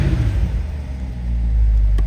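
A 2022 Corvette C8 convertible 2LT Z51 revs with its exhaust valves closed, producing a deep, loud, close rumble that swells as the revs climb, with no talking.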